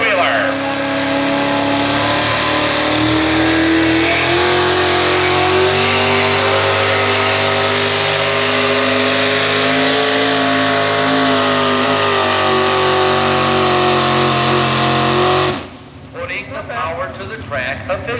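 A modified four-wheel-drive truck pulls down a 300-foot track at an NTPA Grand National event in Fort Recovery, its engine roaring loud and sustained for about fifteen seconds before cutting off abruptly, with crowd and track ambience after.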